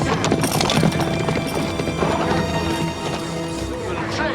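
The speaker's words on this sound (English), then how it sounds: "Star Trek has a horse and carriage chase." Horse hooves clip-clopping during a horse-and-carriage chase set in the 1800s, loud and dense under crashing action sounds and voices.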